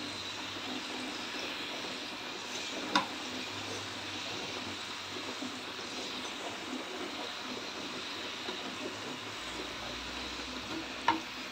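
Cumin seeds frying in a pan make a steady, even sizzle that runs throughout with a faint background hum, broken by a couple of brief sharp clicks.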